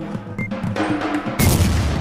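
Bomb explosions go off in The Twins rooftop escape video game, a dense rumbling barrage of blasts with a sharper, louder burst near the end, continuous and close throughout.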